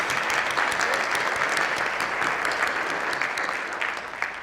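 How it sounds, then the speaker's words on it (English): Audience applause at the Women of Distinction awards luncheon in Fort Worth, a full room clapping steadily and fading slightly toward the end. "So if you please give them a round of applause."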